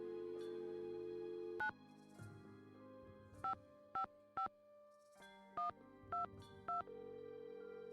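A telephone keypad in the mystery game Nancy Drew: Secret of the Scarlet Hand beeps through a sequence of short tones. One tone sounds alone, then six more follow in two quick groups of three, clear and close over a quiet hum.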